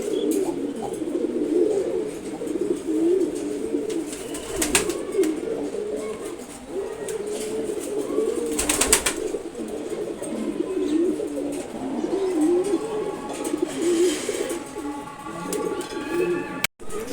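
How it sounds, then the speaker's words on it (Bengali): Pigeons, including an active male and a friendly home-bred bird, coo repeatedly in a loft, soft rolling calls recurring at close range over a steady background hum with occasional faint chirps. "এই যে দেখেন মাশাআল্লাহ খুবই অ্যাক্টিভ একটা নট কবুতর"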